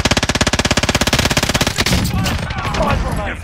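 Rapid automatic gunfire in the battle-royale shooter Warzone, a fast steady burst of close, loud shots for under two seconds, then a busy game soundscape of softer distant action.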